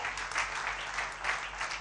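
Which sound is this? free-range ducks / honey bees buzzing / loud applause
loud applause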